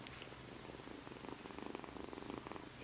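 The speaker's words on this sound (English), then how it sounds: "can you hear her purr?" A young trapped kitten purring softly and steadily up close in Sylmar, California, a faint rhythmic rumble with no voices over it.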